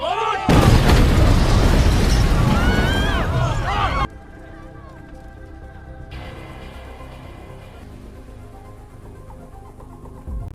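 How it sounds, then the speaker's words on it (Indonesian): A loud, roaring explosion booms for several seconds with a voice talking over it, then fades to a quieter rumbling background. "tak lama rumah pun meledak"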